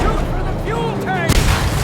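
Gunfire and booms from the Mad Max video game sit under a voice talking, with a sharper blast near the end amid constant engine and combat noise.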